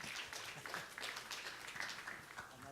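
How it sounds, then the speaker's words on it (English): Faint, steady applause from an audience after a startup pitch at a live pitching session, a continuous patter of many hands clapping heard from a distance. "Great job, everybody, everyone who pitched, great job, round of applause"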